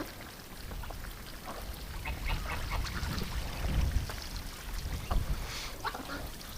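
Ducks quack in a winter pen near a running hose, their calls mixed with splashing water and scattered knocks at moderate volume.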